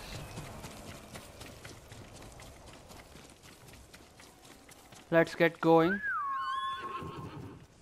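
Horse in Ghost of Tsushima game running with clip-clop hoofbeats, then a loud close whinny rising and trailing off, with a voice speaking briefly over the hooves.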